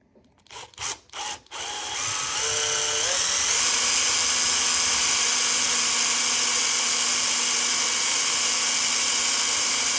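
A power drill bores holes for brass inserts, with a few short, sharp trigger bursts followed by a loud, sustained, close whine whose pitch rises as the drill speeds up and then holds steady.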